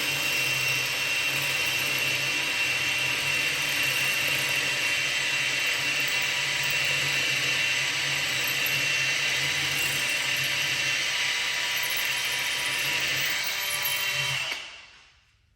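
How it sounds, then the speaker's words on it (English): A Milwaukee hammer drill in drill mode bores about two inches with a plumbers accessory bit, a loud, steady rattling mechanical whine that runs continuously and then stops abruptly near the end. "It seemed to drill just fine"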